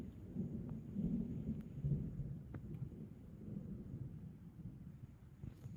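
Low, rolling thunder rumbles steadily from a thunderstorm, a continuous deep murmur with a few brief cracks, moderately quiet and with no voices.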